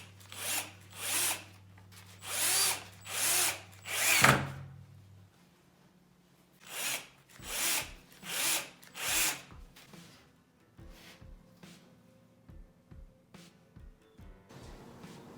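Power drill driving a drywall-type screw into an MDF strip, with repeated short high-pitched bursts of the motor, then a quieter stretch of rapid light clicks and taps near the end.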